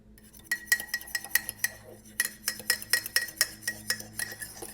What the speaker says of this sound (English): we're going to mix it with 1 egg yolk. Just the yolk. And we're going to stir that until it's combined.